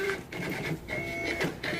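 A POS receipt printer prints restaurant order tickets with a buzzing, stuttering whir in short bursts separated by brief pauses, close by and alone with no talking.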